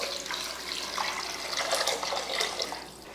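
Water is poured into a pressure cooker pot holding ginger, garlic, tomato, turmeric, oil and salt, making a steady close-up rushing and splashing that lasts the whole stretch with no talking.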